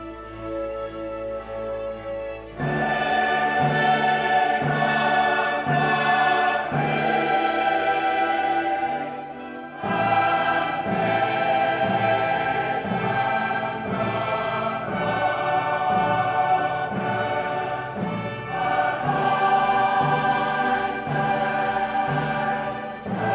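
Handel's Zadok the Priest sung by a choir with orchestra, a full, sustained choral texture after a quiet opening, with rhythmic accompaniment moving underneath, steady and loud throughout with no talking.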